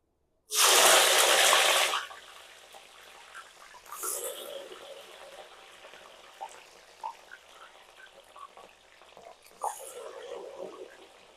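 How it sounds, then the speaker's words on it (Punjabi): Cauliflower and capsicum are tipped into hot oil in a large wok, setting off a loud, sudden sizzle that settles into a steady crackling fry with occasional pops and stirring scrapes. "ਹੁਣ ਮੈਂ ਸਾਰੀਆਂ ਜਿਹੜੀਆਂ ਸਬਜ਼ੀਆਂ ਆ ਗੋਭੀ ਤੇ ਸ਼ਿਮਲਾ ਮਿਰਚ ਇੱਕ ਵਾਰੀ ਇਹਦੇ ਚ ਪਾ ਦੂੰਗੀ"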